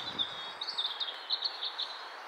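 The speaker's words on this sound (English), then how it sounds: "I think that's a blackbird" A blackbird sings outdoors along a walking path, its short, fairly faint phrases of bright chirps repeating several times over a soft background hiss, with no talking.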